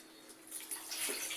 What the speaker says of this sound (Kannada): ಸ್ವಲ್ಪ ನೀರು ಸೇರಿಸ್ತಾ ಇದ್ದೀನಿ